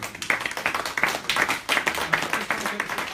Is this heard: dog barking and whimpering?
no